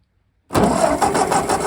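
A Ford 8N tractor engine, revived after sitting unused for ten years, catches and fires up after half a second of silence, then settles into a loud, steady, slightly uneven running rumble close by.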